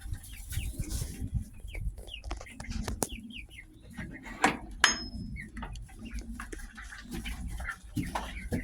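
Chickens and other poultry cluck and call softly in a farmyard, with ducks nearby, a few brief calls scattered over a steady outdoor background while someone talks to an animal.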